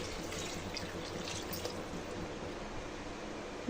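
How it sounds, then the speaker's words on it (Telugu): Water is poured steadily from a cup into a pot of sago for payasam, making a faint, continuous splashing trickle with no voices. "అదే కప్పుతో నాలుగు కప్పుల వాటర్ని యాడ్ చేసుకోవాలి"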